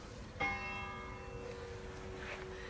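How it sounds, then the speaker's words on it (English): Church bells ring out in the Dutch village of Broek op Langedijk, a clear bell strike with long ringing overtones that hang and fade, heard at a distance over quiet outdoor ambience. "Got to get some bells in."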